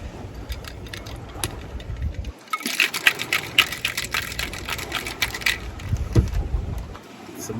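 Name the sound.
cocktail shaker shaking a Trader Vic's Sour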